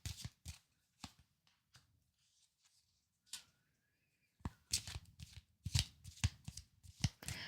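Tarot cards being shuffled and drawn by hand, a series of crisp riffling bursts separated by short quiet gaps, close and clear with no talking.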